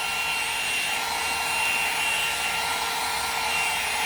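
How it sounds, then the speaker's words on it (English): A Conair 2-in-1 hot air dryer brush drying hair gives off a steady, close whooshing blast of air with an even motor hum, running alone without pause. "It actually is drying my hair all the way around instead of just in one area, like other types of handheld blow drying brushes."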